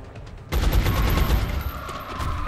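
Rapid bursts of video-game gunfire from XCOM Enemy Within erupt suddenly and keep rattling loudly in a sustained volley, with no talk over them.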